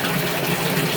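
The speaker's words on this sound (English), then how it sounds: "Look at the water we're moving." Rainwater gushes out of a French drain pipe in a steady, loud, close rush of flowing water with no pauses.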